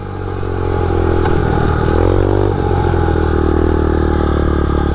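A MotoVox minibike fitted with a 200cc dirt bike engine holds steady at full revs, a loud, continuous close-up drone with a slight dip and rise partway through, no talking.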